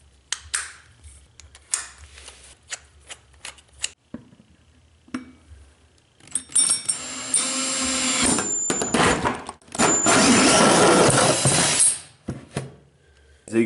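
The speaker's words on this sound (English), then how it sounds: "This crease, that's what I'm going to use that 3-inch hole saw for." A 3-inch hole saw driven by a power drill cuts into a plastic 5-gallon bucket. Scattered clicks and handling noises come first, then two loud, sustained grinding bursts of the saw biting through the plastic.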